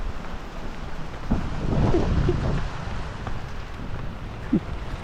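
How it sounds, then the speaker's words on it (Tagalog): Outdoor rain falls as a steady hiss while a low rumble of thunder swells and fades in the middle, with a few scattered nearby knocks. "Pumapatak na po yung ulan."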